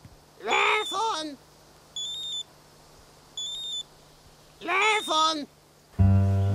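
Two short electronic mobile phone ringing tones sound between bursts of a loud, excited voice calling out.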